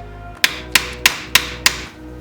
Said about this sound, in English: hit it on the back end with the hammer